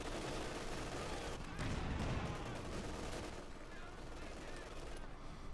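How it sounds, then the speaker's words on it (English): Machine gun and heavy weapon fire in a Company of Heroes 2 battle, dense rattling bursts and booming impacts blending into a continuous din, with a faint voice underneath. "One machine gun there versus the double field guns."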